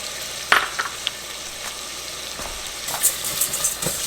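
Rice and vermicelli noodles toast and sizzle in a hot pan while a spoon stirs them. A steady frying hiss runs throughout, with a few sharper scrapes and clinks from the stirring.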